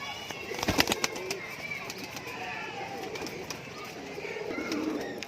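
Pahalvan-breed pigeons handled close by, with soft cooing and bird calls plus a brief flurry of flapping or handling noise early on, over steady background murmur.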